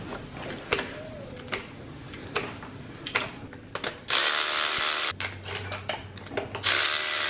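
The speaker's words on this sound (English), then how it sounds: "First, let's pull out the spark plugs" Ratchet clicks and metallic tool handling on a Volvo 240 engine while spark plugs are removed, arriving in short bursts with pauses, plus a louder stretch of ratcheting near the end.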